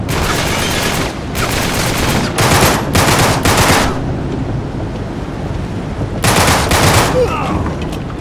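Enemy fire aimed at the player in Uncharted 3 during a storm: loud bursts of automatic shooting in several separate volleys, with gaps of rumbling, rain-like background between them.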